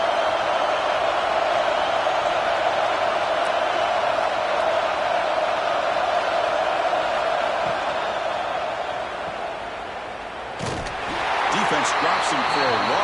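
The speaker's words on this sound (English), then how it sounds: "Listen to the crowd energy here in the early going." A stadium crowd at a Miami Hurricanes college football game roars in a steady, dense wash of cheering, with a louder surge near the end, under the voice of a play-by-play commentator.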